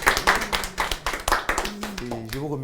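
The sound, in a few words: audience clapping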